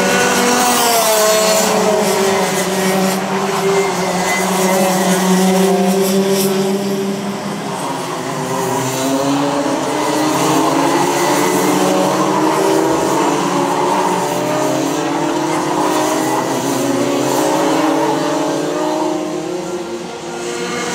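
Racing karts at a club championship round scream past on track, engines revving loudly and shifting pitch as they accelerate, a continuous close, loud drone of several karts with no talk.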